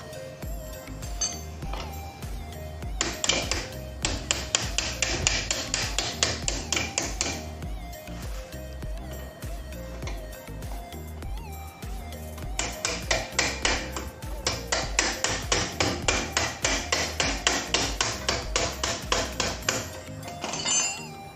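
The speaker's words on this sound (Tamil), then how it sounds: "இப்போ இந்த வீல் ஆக்சலை தட்டி வெளியில் இழுத்துடலாம்." Metal hammer blows knock the wheel axle out of a Pulsar 220F motorcycle during a disc pad change, in two rapid bursts of sharp ringing taps separated by a quieter pause, close and loud with no talk.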